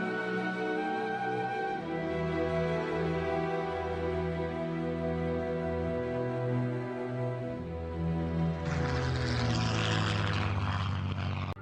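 A Supermarine Spitfire fighter's piston engine drones steadily in flight, a loud continuous propeller roar with a shifting pitch that swells in intensity toward the end.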